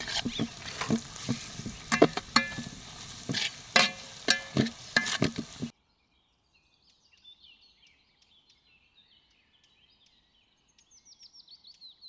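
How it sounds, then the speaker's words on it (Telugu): Chili powder and turmeric frying in hot oil while being stirred, close crackling sizzle with scraping strokes for several seconds, then it stops abruptly, leaving faint outdoor bird chirps. "కారం కూడా బాగా ఫ్రై కావాలి."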